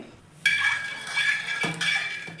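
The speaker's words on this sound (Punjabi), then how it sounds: "ਹਿੰਗ ਨੂੰ ਚੰਗੀ ਤਰ੍ਹਾਂ ਘੋਲ ਲਵਾਂਗੇ" A spoon stirs asafoetida into room-temperature water, giving two bright clinking scrapes against the vessel with a steady swishing in between, close and clear with no voices.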